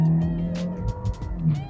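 A Hyundai/Kia 2.0 engine, as in a Sportage, ix35 or Creta, revs up while the car climbs a small hill, a steady tonal drone rising in pitch with road rumble underneath throughout.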